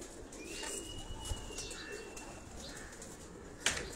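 Pigeons cooing on a Karachi rooftop loft, soft low coos repeating over steady outdoor background noise, with a faint flutter and a sharp tap near the end.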